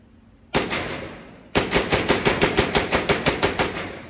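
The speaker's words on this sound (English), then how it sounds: "This is what it sounds like and looks like with a can." Rex Tactical 300 Blackout pistol fired with a suppressor outdoors: two single shots, then a rapid, evenly spaced string of about a dozen loud, near, muffled reports.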